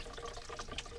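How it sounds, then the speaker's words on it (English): Radiator coolant drains from a Chevrolet Cobalt LS 2.2-liter engine after thermostat removal, a short, faint splashing trickle of liquid. "As you can see, all the radiator fluid is coming out."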